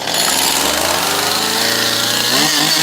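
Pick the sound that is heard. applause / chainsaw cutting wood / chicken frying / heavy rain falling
chainsaw cutting wood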